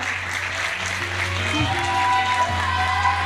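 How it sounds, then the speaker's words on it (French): Spectators at the Miss Villeneuve d'Ascq 2023 beauty pageant give sustained applause, a dense wash of clapping over a low music hum, with faint voices mixed in. "Encore un petit peu d'applaudissements."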